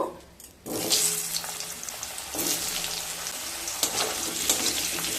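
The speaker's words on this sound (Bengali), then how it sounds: "এবার ওই তেলের মধ্যে কেটে রাখা একটা বড় সাইজের আলু ভেজে নেব" Large cut potato pieces drop into hot oil left from frying rohu fish, and a sudden loud sizzle bursts in after a quiet moment, then settles into a steady, bubbling fry with occasional louder crackles.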